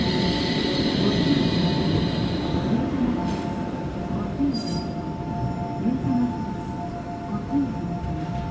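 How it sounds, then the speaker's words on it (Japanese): A Manyo Line Doraemon tram, a Japanese streetcar, rolls along its rails with a loud, steady rumble and faint metallic clinks and ringing tones over a constant low roar. "電車が来ます。 ご注意ください。"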